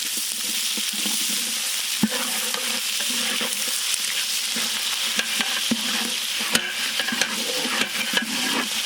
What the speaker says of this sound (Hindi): नेक्स्ट इसमें हम लोग स्लाइस्ड ऑनियंस भी ऐड करेंगे।